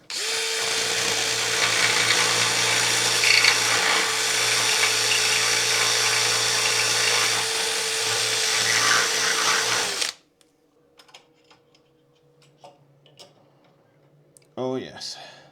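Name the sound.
drilling into a wall with a blunt masonry bit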